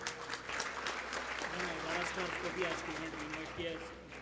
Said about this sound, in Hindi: अयूब अकबरी साहब के लिए स्पेशल तालियां होनी चाहिए।